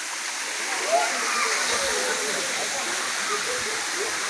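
Gandahati waterfall roars in a constant, broad rush of falling and splashing water near at hand, while voices talk faintly beneath the steady torrent.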